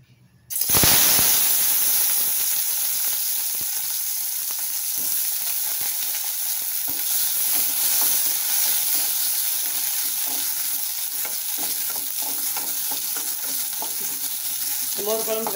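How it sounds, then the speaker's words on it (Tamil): Eggplant drops into hot oil in a kadai for moor kulambu, bursting into a sudden loud sizzle that settles into a steady, crackling fry with occasional stirring scrapes toward the end. "கொஞ்சமாக ஆயில் விட்டு ஆயில் ஹீட் ஆனதும் இந்த கத்திரிக்காயை அதில் போட்டு வதக்கலாம்"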